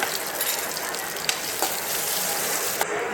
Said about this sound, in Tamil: ஒரு பேனில் கொஞ்சமாக எண்ணெய் ஊற்றி கடுகு சீரகம் மிளகு கொத்தமல்லி பூண்டுங்க வெங்காயம் நாலு வரமிளகா எல்லாத்தையும் போட்டு தாளித்து